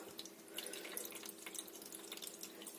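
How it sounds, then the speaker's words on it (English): Water running and splashing as it fills an IKEA VAXER hydroponics system, a continuous close trickle with small drips and no voices. "I'm going to fill it with water now."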